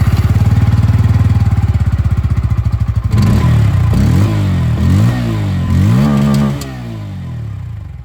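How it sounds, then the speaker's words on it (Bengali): A Bajaj Pulsar N160 motorcycle, a 160cc bike, revs its exhaust close by: a steady idle throb for about three seconds, then a series of sharp rising and falling throttle blips, loud and alone. "এক্সস্ট সাউন্ডটা আপনাদের শোনাবো"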